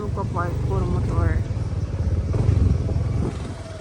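Motorcycle engines rumble steadily at a parking area in El Nido, Palawan, with people talking over the continuous low idling and revving throughout.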